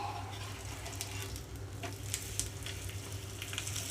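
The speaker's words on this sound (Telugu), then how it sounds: "నేనైతే ఇక్కడ మీడియం ఫ్లేమ్లో ఉంచి కాల్చుకుంటున్నాను కొంచెంగా పైన కూడా నూనె వేస్తున్నాను" Ragi rotti roasts with oil in a pan over a medium flame, giving a faint, steady sizzle with a few small crackles and pops close by.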